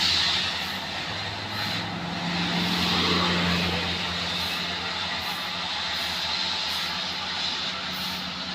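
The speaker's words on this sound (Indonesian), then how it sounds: "suara mesin begitu keras." A Mitsubishi Fuso truck carrying a 10-ton load labours uphill, its engine a steady, loud drone with a low throbbing hum holding across the whole stretch.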